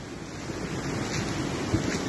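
Floodwater from a river that has burst its banks pours across a road in Dagestan, making a steady, loud rushing roar with no break and no voices.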